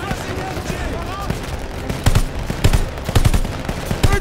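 Machine gun fire in a Call of Duty Vanguard WWII battle: several sharp bursts of automatic fire, growing louder and more frequent toward the end, mixed with battlefield noise and voices.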